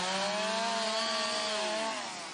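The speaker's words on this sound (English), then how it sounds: "It sounds like a chainsaw massacre" A chainsaw cuts through hedgerow branches during hedgelaying, its engine a steady, loud whine that holds for about two seconds and then eases off toward the end, with no talking.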